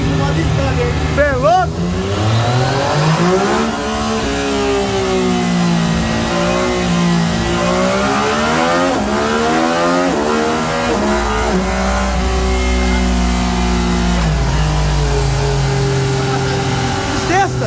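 A new Yamaha MT-09 motorcycle engine revving hard at speed, its loud, steady tone climbing and falling through gear changes, with wind rush and people talking over it.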